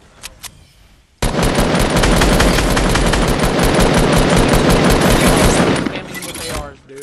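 Sustained rapid assault rifle fire in the Fortnite video game, a dense loud burst of shots running for about five seconds before cutting off, with brief quieter game sounds before and after.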